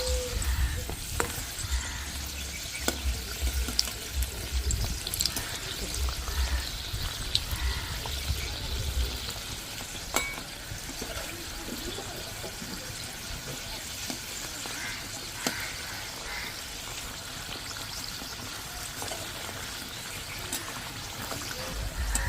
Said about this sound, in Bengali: তেল গরম হয়ে গেছে এক এক করে সিঙ্গারাগুলো ভাজার জন্য তেলে দিয়ে দিচ্ছি